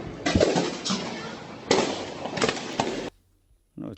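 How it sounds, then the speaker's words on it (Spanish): Sharp gunshots in Venezuela, several loud close cracks in irregular bursts with echoing tails, then brief silence. "están pegando los tiros abajo, bájate, están pegando los tiros en la pared."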